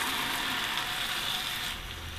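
Mutton frying in spiced oil in a pan, a broad hissing sizzle that holds steady and then eases slightly near the end, close and moderate in level, with no voices.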